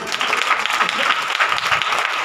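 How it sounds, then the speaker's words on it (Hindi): Church congregation clapping together during a Hindi sermon, a steady dense wash of many hands that runs loud and continuous from start to finish, with no talking over it. "ताली बजा के"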